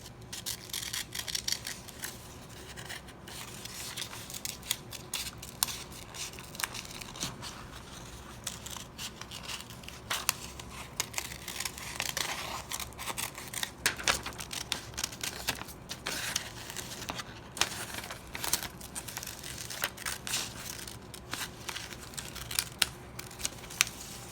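Scissors snip and trim the edges off a paper craft piece, with steady close crisp cuts, crinkles and rustling throughout, and no talking.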